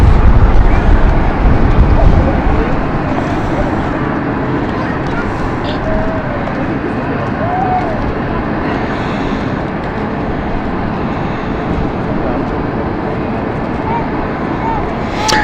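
Airbus A220 engines at London City Airport: a loud, continuous broadband roar with a deep low-end rumble, steady for about fifteen seconds, with brief faint whistling tones above it.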